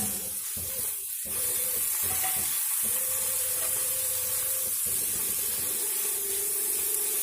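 Chopped tomatoes tipped into hot oil for a broken wheat and beef snack hiss and sizzle continuously at close range, broken by a few short clattering stirs. No one speaks.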